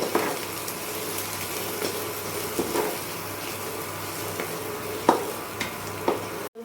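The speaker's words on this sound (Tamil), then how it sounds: "நல்லா எல்லாத்தையும் மிக்ஸ் பண்ணி விட்டுக்கணும்" Chicken curry masala with chilli powder is stirred and mixed in a hot pan, giving a soft steady sizzle broken by scattered scraping taps of a spoon against the pan, fairly close and without voices.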